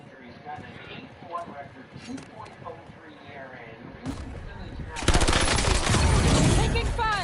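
Heavy automatic gunfire in the video game Call of Duty: Black Ops 7, at first mixed under a streamer's voice and game noise, then a loud, sustained burst of rapid shots that fills the last couple of seconds.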